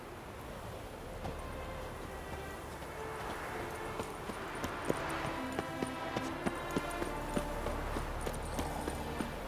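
Horse hooves gallop through The Witcher 3 in a steady, fairly faint clip-clop rhythm that grows more distinct midway, set against a hushed outdoor ambience.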